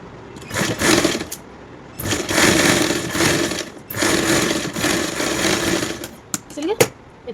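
A sewing machine stitches a small coat for a two-to-three-year-old child, running in several loud bursts of rapid whirring separated by short pauses, with a voice speaking between runs.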